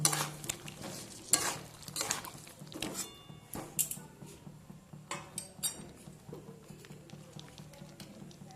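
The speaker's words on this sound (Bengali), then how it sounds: "তেলটা যখন ট্রান্সফার হয়ে যাবে তখন আমি এই ভেজে রাখা আলুগুলো এখানে দিয়ে দেব। ভালো করে আমি কষিয়ে নেব।" Fried potatoes being stirred in hot oil in a pan for a Bengali-style bhetki fish curry, with repeated scraping spoon strokes and a soft sizzle, close and fairly quiet, without talking.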